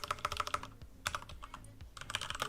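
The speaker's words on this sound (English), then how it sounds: "to begin recording we just will type" Commands typed on a computer keyboard for recording Black Ops 2 demos, a rapid run of close key clicks in bursts with short pauses, no voices.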